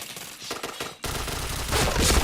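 Rapid gunfire in a video game, dense automatic bursts that cut in abruptly and continue loud and sustained after a brief lighter stretch.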